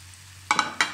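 Spoon stirring besan halwa with sugar, almonds, coconut and raisins in a frying pan, three quick scraping strokes with a soft sizzle, close and fairly quiet.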